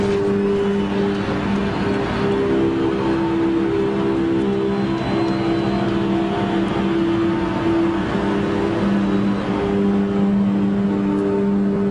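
NASCAR stock cars race at Daytona International Speedway during the 2012 Coke Zero 400, their engines a dense, steady, loud drone of a drafting pack that holds unbroken for the whole stretch.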